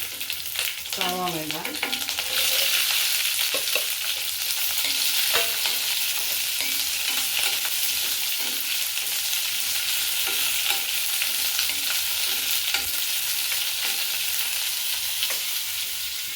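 Sliced onion frying in a pan for a Kerala Onam kootukari, a steady loud sizzle with occasional stirring scrapes, continuous throughout.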